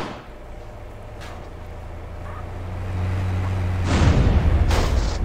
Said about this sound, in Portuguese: O áudio 3D da explosão bem de longe, né?